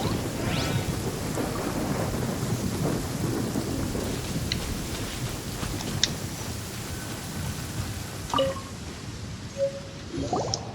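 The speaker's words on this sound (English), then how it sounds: "It's raining." Steady rain and low rumbling thunder in the video game Genshin Impact, a continuous dense downpour with a few brighter drips and splashes, heard alone without talk.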